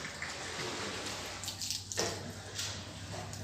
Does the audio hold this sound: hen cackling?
no